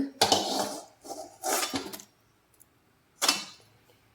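Fried ginger chutney ingredients being scooped out of a pan into a mixer jar, a few separate close metallic clinks and scrapes of a spoon on cookware with quiet gaps between them.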